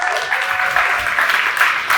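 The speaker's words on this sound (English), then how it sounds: "please, round of applause for Dr." Audience applause for a guest speaker taking the stage, steady dense clapping from a crowd filling the whole stretch at a constant, fairly loud level.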